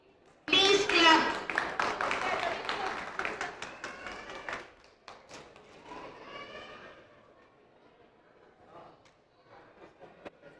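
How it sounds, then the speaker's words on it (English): Audience clapping at a school celebration event, a burst of claps that rises sharply then thins out over several seconds, with children's voices and talk mixed in. "Please clap."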